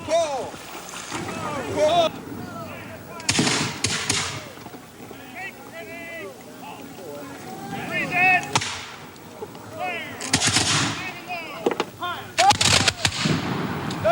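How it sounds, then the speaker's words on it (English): Black powder muskets and artillery crack in sharp, loud bursts at a battle reenactment on a beach, several blasts spread across the scene with quieter gaps of crowd noise between. "Firing black powder in handmade weapons is a dangerous pastime under any circumstance"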